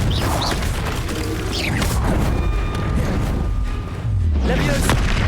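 Confringo blasting spells explode in Hogwarts Legacy on PC: a loud, busy stretch of repeated booming bursts, sweeping magical whooshes and clattering mechanical game effects, with a brief dip before a final blast.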